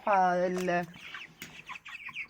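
A white broiler chicken gives a loud, close cluck at the start, followed by softer scattered chirps and clucks from the flock on an apartment rooftop.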